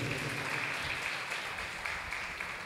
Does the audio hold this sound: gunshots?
no